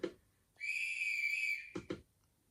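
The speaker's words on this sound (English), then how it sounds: "Let's see what the guard whistle's like then." A single sustained high-pitched whistle from a model train's DCC sound decoder (Accurascale DRS class locomotive) blows for about a second, preceded and followed by short mechanical clicks, fairly close and clear.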